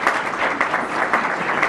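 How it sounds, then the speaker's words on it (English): Steady applause from an audience at a school board meeting, a dense, even clatter of clapping filling the whole moment with no voices over it. "You can applaud now if you want."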